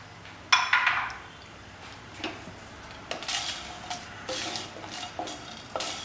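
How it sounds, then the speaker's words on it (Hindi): Whole garam masala spices dry roast in a pan for ginger fish while a spatula scrapes and clinks against the metal in short, repeated strokes. It is fairly quiet, with a faint crackle underneath. "जिंजर फिश बनाने के लिए सबसे पहले हमारा जो गरम मसाले हैं ये हम ड्राई रोस्ट कर लेते हैं"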